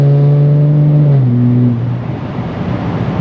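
A BMW 330d with the N57 diesel engine, stage 2 tune and full tube exhaust accelerates hard, a loud close droning engine tone that climbs through gear changes and then fades into rushing road noise.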